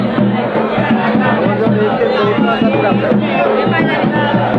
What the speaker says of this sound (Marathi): आईची फुल गर्दी देखील आहे.